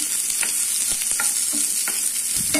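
Onion and garlic sauté in a hot pan, a continuous bright sizzle broken by several stirring scrapes and taps, no talking.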